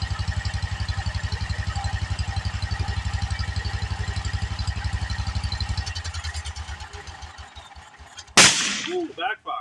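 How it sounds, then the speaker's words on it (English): A neighbor's Wheel Horse garden tractor engine chugs in a steady rapid pulse that slows and falters, then one loud sharp backfire bang with a brief rattling aftermath. "Ooh, backfire."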